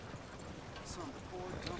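A horse-drawn single cart in the video game Red Dead Redemption 2 clip-clops in a quiet, steady rhythm of hoofbeats beneath ongoing conversation, faint and muffled.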